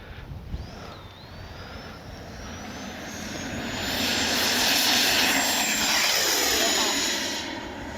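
A Freewing Yak 130 RC jet flies overhead with a loud jet-fan whine that rises in pitch and swells as it passes close, then holds steady and fades slightly, with a faint voice at the start.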